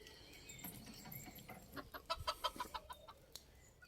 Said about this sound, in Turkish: Gelin beraber bir de civcivlerimize bakalım.